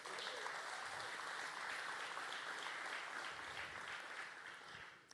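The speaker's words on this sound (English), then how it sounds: "Give yourselves a round of applause." Audience applause fills a hall at a regional startup pitch competition final in Virginia, steady dense clapping throughout, tapering slightly at the end.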